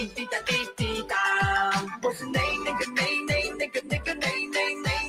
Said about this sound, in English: New ringtone.